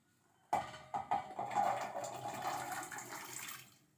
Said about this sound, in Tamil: இப்போ நெல்லிக்காவெல்லாம் எடுத்து கொட்டிடலாம்.